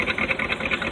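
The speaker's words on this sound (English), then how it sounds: "Power windows." Power window motor whirring in a Chevrolet K5 Blazer, a close, steady mechanical buzz with slight rhythmic pulsing throughout.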